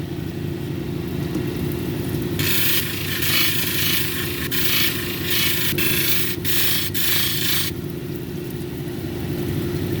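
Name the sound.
sanding a Mexican red lace agate cabochon at 280 grit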